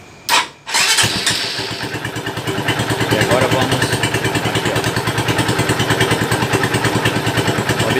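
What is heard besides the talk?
Honda CG 150 motorcycle engine starting and running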